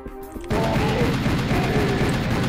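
Gunfire in the first-person shooter Serious Sam: The First Encounter, starting abruptly after a quieter moment into a loud, sustained rapid stream of shots with a rumbling, booming weight under the rattle.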